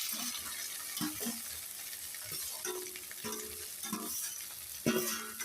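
Okra tossed into hot oil with chillies in a home kitchen, giving a steady close sizzle broken by scraping stirs and light clatter, with no talking.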